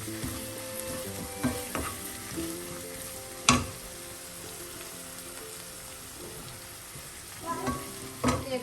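Onions and curry leaves stir-frying in a pan for a prawn and long bean dish, with a steady sizzle, a sharp clank of the spatula near the middle, and scraping bursts toward the end.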